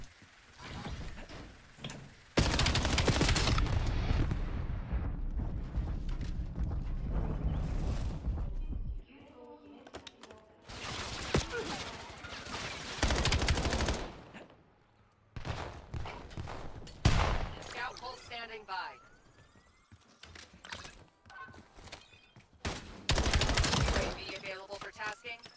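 Sustained automatic gunfire in Call of Duty Black Ops 7 comes in several long, dense bursts separated by brief pauses. Loud and close, with mechanical clatter between the volleys.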